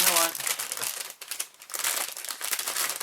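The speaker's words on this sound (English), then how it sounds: "I'm just going to take this out of the plastic bag right now" A Bandai 1:144 AT-AT plastic model kit is pulled from its plastic bag, giving loud, close, continuous crinkling and crumpling throughout with brief dips in between.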